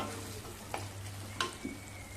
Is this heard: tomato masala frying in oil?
yes